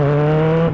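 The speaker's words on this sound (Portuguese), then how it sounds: "é gostoso trocar de marcha sem apertar a embreagem" A Kawasaki Z1000 fitted with a racing quickshifter holds a loud, steady engine drone, then briefly dips as a gear is snapped through without the clutch.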